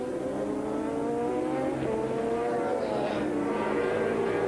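Racing motorcycles at the Bol d'Or endurance race, a number 4 Suzuki and a number 11 Kawasaki battling, with engines droning steadily under commentary and pitch sweeping as they rev and pass.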